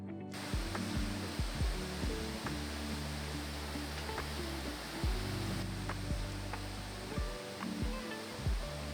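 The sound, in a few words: waterfall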